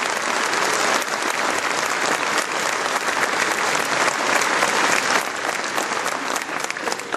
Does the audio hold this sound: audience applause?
yes